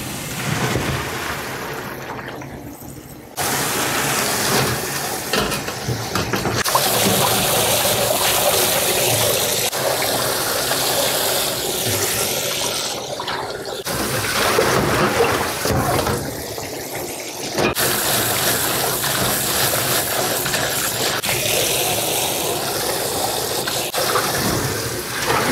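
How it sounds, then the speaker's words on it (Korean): Sweet potato stems being rinsed under a running kitchen tap, a steady loud rush of water that briefly dips and restarts as the flow is interrupted, with no talking. "흐르는 물에 한번 헹궈 주시면 좋아요."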